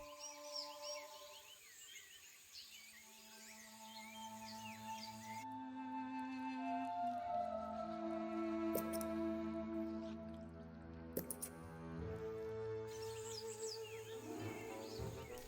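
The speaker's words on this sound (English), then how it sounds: "the ant birds are circling overhead" Antbirds calling overhead in the video game Empires of the Undergrowth, chirps and whistles over a layered musical score with low tones, a few sharp clicks near the end.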